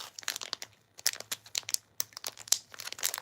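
Close, crackly crinkling and ripping of plastic packaging in quick irregular bursts, fairly quiet, with no talking.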